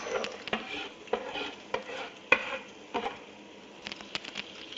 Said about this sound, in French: je vais maintenant mettre mes oignons dans la poêle avec les lardons